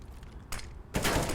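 Bursts of rapid gunfire from a CS:GO match on the Overpass map, two dense volleys of shots a moment apart, the second louder and longer, over a low background rumble.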